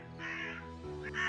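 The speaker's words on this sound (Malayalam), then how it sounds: "കാക്കപ്പെണ്ണിന്റെ ശബ്ദം കേട്ടതും" A crow caws in a harsh, raspy call, held for a moment and then repeated as a second caw, faint in level and heard alone without talk.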